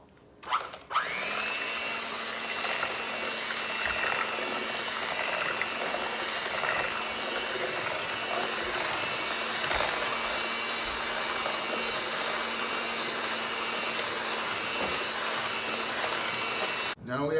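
A mixer or whisk runs steadily through five eggs being beaten until fluffy, a continuous whirring mechanical drone with a constant hum underneath, held close for the whole stretch before cutting off.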